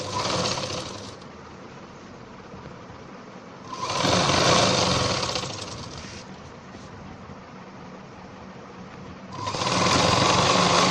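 A sewing machine stitches the seat seam of ladies' pants, running in loud bursts of steady whirring separated by quieter idle stretches, with no voices.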